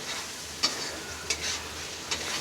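Chicken frying in a pan with freshly added ginger-garlic paste gives a steady, soft sizzle, broken by three brief scraping stirs spaced roughly evenly apart.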